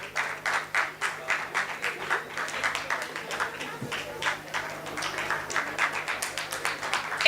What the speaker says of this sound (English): Everyone, please give a big round of applause to all our students